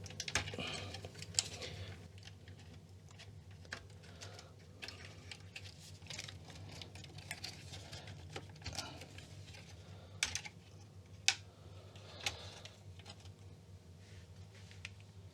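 Tandy 200 laptop computer keyboard being removed during a restoration, with a ribbon cable retainer pulled up; soft plastic clicks, taps and handling noises come and go at close range over a steady low hum, with no talk.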